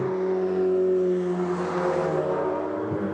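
A 720-horsepower supercar engine held hard against its rev limiter, a steady, loud, sustained high-pitched drone with no break for a few seconds.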